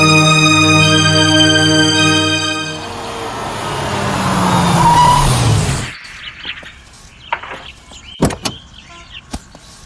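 A car pulls up, its engine hum swelling and then cutting off abruptly, followed by sparse clicks and a couple of sharp knocks in a quiet setting.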